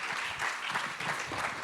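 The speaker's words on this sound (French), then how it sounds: "venez vous asseoir, on va vous applaudir." An audience applauds a speaker at a seminar with a short burst of soft, even clapping that sounds fairly distant.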